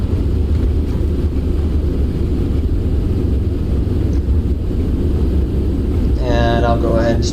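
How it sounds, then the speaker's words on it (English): Jet thrust reversers roar during a landing rollout on a sloped runway in Greenland in X-Plane 12, a steady loud broadband rumble throughout, with a brief higher whine near the end. "now we're going to go downhill, so let's put those reversers in"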